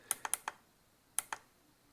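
Sharp plastic button clicks on a Spypoint Solar W trail camera, three or four quick ones, a pause, then two more, close and quiet in a still room.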